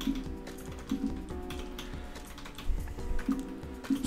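Fingers tap quickly on a computer keyboard while C++ code for an N-ary tree is written, a close, steady clatter of keystrokes with short pauses and no talking.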